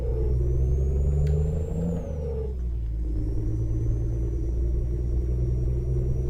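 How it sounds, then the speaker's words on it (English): In Euro Truck Simulator 2, a heavy truck engine rumbles deep and steady, easing off briefly mid-clip before settling back into a constant low drone, loud and close with no talk. "it came with the engine sound"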